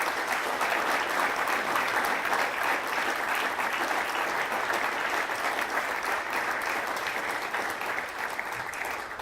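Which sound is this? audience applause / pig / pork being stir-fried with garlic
audience applause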